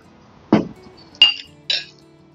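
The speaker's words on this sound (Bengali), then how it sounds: "এবার আমি মাটনটাকে প্রেসার কুকারে দিচ্ছি।" Chunks of mutton going into a pressure cooker make three sharp metallic clinks, evenly spaced and close, with quiet pauses between them.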